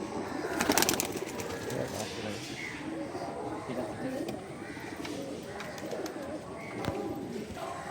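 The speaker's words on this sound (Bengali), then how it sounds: "মাদি পায়রা, 500 টাকা দাম আছে" Female pigeon cooing among other birds at a roadside pigeon market, soft repeated coos under steady background chatter and crowd noise.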